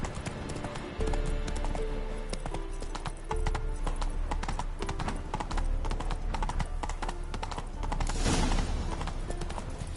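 Hooves of Roach, the horse in The Witcher 3, clip-clop steadily and close for the whole stretch, a dense rhythmic trot over game music with no voices.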